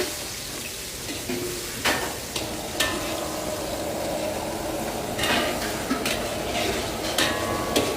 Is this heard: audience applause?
no